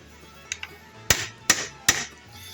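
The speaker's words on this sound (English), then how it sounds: "a little brass hammer like this makes these tools last longer" Three sharp metallic strikes from a small brass hammer land about half a second apart on tire-changer tools, preceded by a couple of light taps, close by with no talking.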